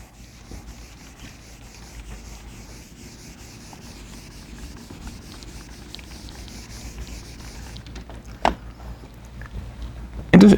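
Blackboard being erased during a mathematics lecture in a classroom, with continuous dry rubbing and scrubbing sustained at a steady, moderate level, then a few sharper knocks near the end.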